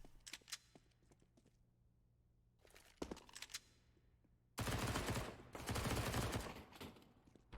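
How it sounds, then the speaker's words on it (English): MP9 submachine gun fire in Counter-Strike on the Mirage map: a few scattered shots and short bursts, then dense, sustained rapid fire that fills the second half. "Box just lighting them up. 4 kills on the MP9."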